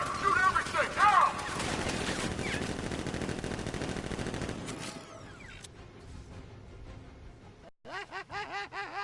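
Rapid bursts of gunfire from guards in Batman: Arkham Knight crackle loudly for several seconds, thinning out before a voice speaks over the fading action.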